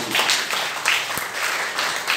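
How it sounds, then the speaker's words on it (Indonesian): A church congregation claps during an Indonesian sermon, a dense continuous wash of many hands, fairly loud and steady throughout with no talking over it. "Kasih tepuk tangan untuk Tuhan."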